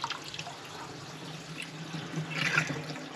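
Water drains slowly from a plugged bathroom sink, trickling and dripping softly with a gurgling swell near the end, no talking.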